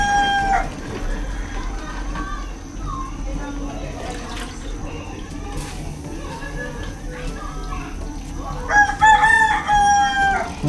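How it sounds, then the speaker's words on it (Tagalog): A neighbouring rooster at a seaside spot crows near the start and again loudly near the end, over a steady background hum and some other low sounds. "Natila po ang manok sa kabila."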